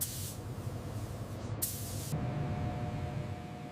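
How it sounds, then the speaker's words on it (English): A spray gun lays ermine white paint onto the body of a 1964 Ford GT40 inside a professional downdraft booth. It makes two short hissing bursts over a low, steady booth rumble. "The iconic ermine white paint begins to coat the historic curves of the GT40."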